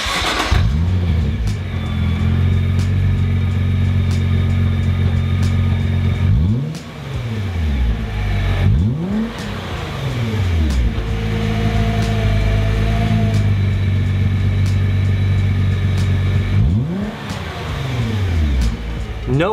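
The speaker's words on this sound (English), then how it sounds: "I'm gonna go ahead and start it up for you guys, maybe give it a little rev so you can kind of hear what it sounds like" A Nissan R35 GTR engine cranks and starts, then idles loudly up close and is revved several times, each rev rising and falling in pitch.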